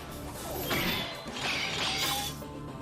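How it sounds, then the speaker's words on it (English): A sword striking armor in a Fate/stay night visual novel scene: a few loud metallic crashing impacts with shattering, scraping texture over a dense, busy background. "The sword smashes against the armor, shaves it, letting off lightning sparks."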